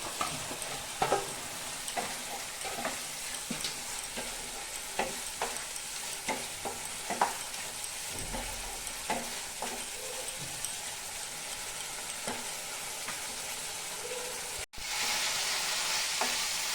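Paneer frying in oil in a kadai, a continuous hissing sizzle with intermittent stirring scrapes and clatters, moderately close, with a brief cut near the end followed by a louder sizzle.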